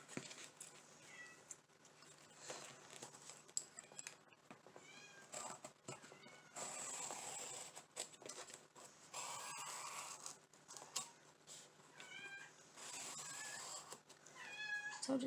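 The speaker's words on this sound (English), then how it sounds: "I guess you can hear my kitten playing" A kitten meows repeatedly while playing with toys, short chirpy meows scattered across the clip between rattling and clicking toy noises, fairly close in a quiet home.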